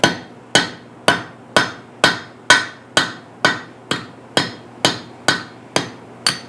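Steady hammer blows ring on hot steel at an anvil while a trivet is forged, about thirteen evenly spaced metallic strikes, each loud and close with a short decaying ring, and no talking.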